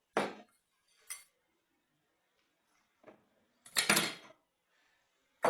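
A kitchen knife clatters on a counter in a few sharp, separate metallic clinks and knocks, the loudest near the end, with near silence between them.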